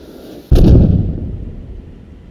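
A single heavy cannon blast from a Bradley fighting vehicle in a squad vehicle-combat video game, loud and close, with a booming low rumble that slowly decays into a sustained background roar.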